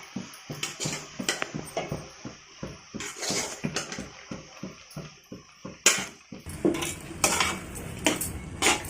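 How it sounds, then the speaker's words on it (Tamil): Roasted grated coconut being stirred into boiling sugar syrup for coconut burfi, with repeated metal scraping and clinking of a spoon against the pan over a soft bubbling sizzle, close and steady without speech. "இப்போ நம்ம இதில் வறுத்து வச்சுருந்த தேங்காய் பூவை சேர்த்துக்கலாம்."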